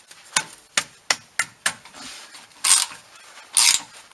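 Ratchet wrench working the cover bolts off a Ford F-150 rear differential, a series of sharp, evenly spaced clicks followed by two longer, louder grinding bursts, close up and with no talking.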